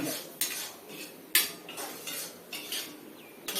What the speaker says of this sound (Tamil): இந்த பேஸ்ட்டை நம்ம நல்லா பச்சை வாசனை போகிற அளவுக்கு நம்ம வதக்கிறோம்